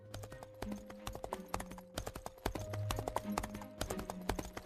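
Cartoon horse hooves clip-clop in a quick, steady trotting rhythm, with clear sharp knocks over a faint background hum and no talking.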